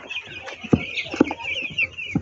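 Broiler chickens on a poultry farm, several birds clucking and squawking nearby in short irregular bursts, with a few sharp louder calls standing out against a quiet background.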